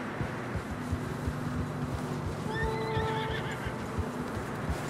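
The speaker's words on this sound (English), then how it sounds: "Horses are struggling." A horse in deep fresh snow in the Red Dead Redemption II video game gives a clear whinny mid-clip over a steady run of muffled hoofbeats and wind.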